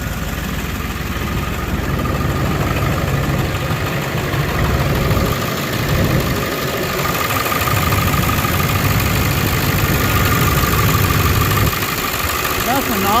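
The engine of a blue truck idling while it warms up, a loud, steady, close rumble running throughout with a slight rattle, and a voice speaking over it briefly.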